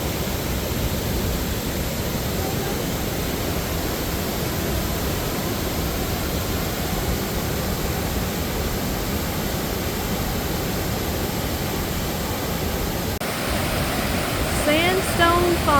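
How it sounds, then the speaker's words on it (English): Sandstone Falls on the New River in West Virginia roars as a constant, dense rush of falling water, loud and unbroken throughout. "Sandstone Falls."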